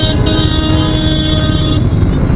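Busy street traffic from cars and motorcycles rumbles past, with a steady horn toot ringing over the engine noise for most of the moment.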